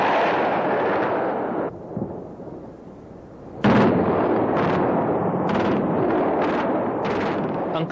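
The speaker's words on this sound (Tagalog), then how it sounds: "Dinig mo yung pagdating ng mga aeroplano, biglang pagsabog at pag-alis ng aeroplano." Bombing explosions and anti-aircraft fire in Baghdad: a long deep roar of blasts fades out, then after a lull comes a sharp loud burst followed by a rhythmic string of heavy gun reports, close and powerful, with no talk.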